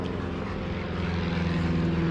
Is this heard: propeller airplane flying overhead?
yes